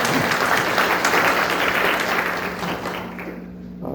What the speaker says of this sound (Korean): 감사의 의미로 다 같이 큰 박수 보내주시기 바랍니다.